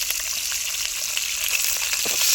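Onion frying in about 50 grams of oil in a kadai for parotta veg kurma: a loud, continuous hissing sizzle close by, with faint stirring ticks and no talking.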